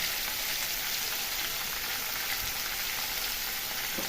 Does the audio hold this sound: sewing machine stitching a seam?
no